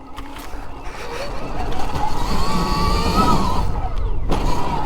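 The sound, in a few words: Stark Varg electric dirt bike riding in mode 2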